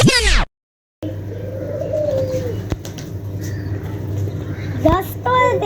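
Pet village pigeons let out to sun themselves give a soft cooing call over a steady low hum, with a brief silent gap early on and a burst of bright chirps near the end.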